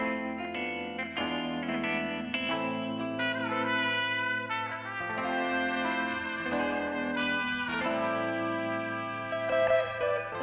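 An original music sample, a dense layered passage of sustained tonal chords with effected, chorus-like shimmer and echo, playing continuously and fairly loud on its own before being chopped.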